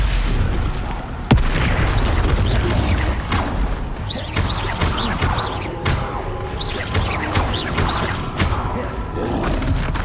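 Spell blasts and explosions in Hogwarts Legacy: repeated loud booms, crashes and crackling impacts, one sharp blast near the start, with shouting voices amid the combat.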